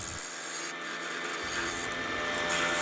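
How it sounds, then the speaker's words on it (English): A sharp Robert Sorby bowl gouge cuts a spalted sweetgum bowl spinning on a lathe, giving a steady, close scraping and rasping hiss that runs continuously without talk. "I'm using a nice sharp Robert Sorby bowl gouge for this."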